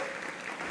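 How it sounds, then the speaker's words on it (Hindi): A crowd at a DAV inter college assembly in Budhana gives a brief, faint burst of applause for a child, a soft continuous patter of many hands lasting under a second. "तालियां इस बच्चे के लिए"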